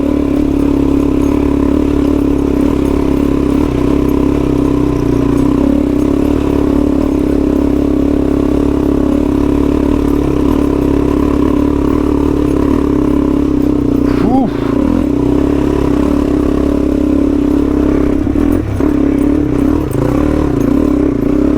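A Suzuki DRZ dirt bike labours up a rough, wet trail in Australia's Snowy Mountains, its engine droning loudly and continuously with rising revs, clatter and scraping, while the rider speaks over it.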